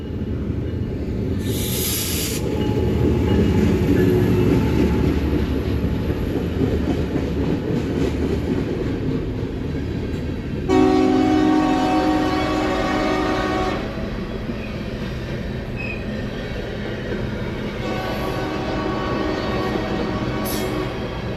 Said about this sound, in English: Whole train full of fertilizer.